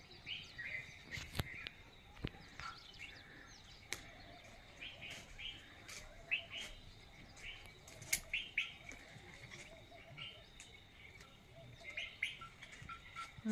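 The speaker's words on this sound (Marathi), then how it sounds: "पक्ष्यांचा आवाज किती छान येते. हे बघा पक्षी त्याच्यात." Birds chirp and call around a village on a quiet morning, scattered tweets near and far with occasional wing flaps, faint overall against soft outdoor ambience.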